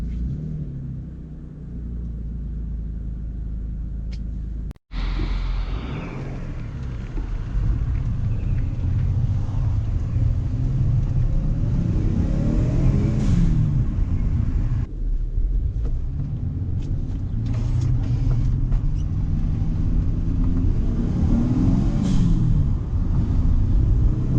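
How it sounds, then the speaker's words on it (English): A Mitsubishi 3000GT VR4 engine with a GReddy blow-off valve idles while warming up, a steady, heavy rumble, continuous and close, with a brief clunk early on and the drone holding without pause. "So, gonna let the engine warm up a little bit."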